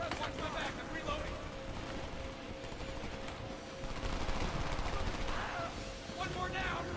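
Rapid automatic gunfire in the war shooter Homefront, sustained bursts of close, loud shots over a continuous battle din, with shouted voices over the firing.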